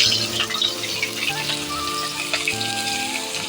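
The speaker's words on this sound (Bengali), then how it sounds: "এখন সেটাকে ভাজা ভাজা করব।" Chopped green chilli and onion fry in hot oil in a pan, a loud steady sizzle with crackling pops and spatters.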